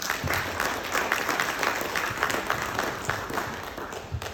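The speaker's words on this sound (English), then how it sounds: "Give yourself a round of applause." Warm, steady applause from an audience at a company's 20th anniversary interfaith service, many hands clapping together close by with no talking.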